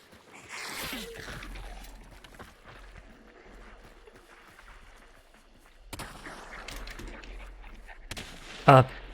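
Gunfire in the video game Hunt: Showdown, scattered sharp shots, some distant and muffled, with a couple of louder cracks later, heard among faint movement noise and a person talking at times.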